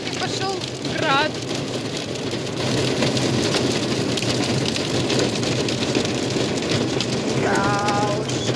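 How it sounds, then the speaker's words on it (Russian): Hail comes down during a storm in Israel, a dense, steady pelting roar on surfaces nearby that runs without a break. Faint voices rise briefly above it. "И тут хряк и пошел град."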